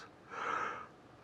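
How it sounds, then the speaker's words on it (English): A person yawns once, close by: a single breathy intake that rises, holds a brief voiced tone, and then fades away. "I have just yawned."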